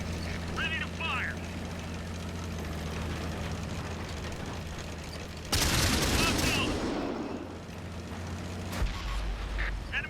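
A heavy tank cannon blast from World of Tanks booms out mid-scene above a steady engine rumble, followed by a shorter second report, while someone talks over the droning battle ambience.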